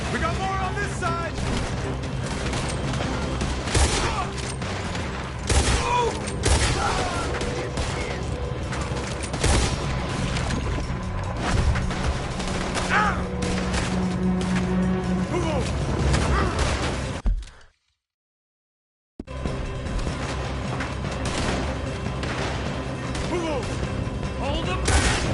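Rapid exchange of gunfire in a Red Dead Redemption 2 shootout, with dense overlapping shots and loud chaotic bursts under shouting voices and a swelling music score, broken by a sudden brief silence.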